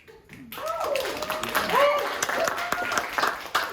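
Audience at a Pride Weekend comedy set clapping, a moderate patter of hands under a voice that talks over most of it.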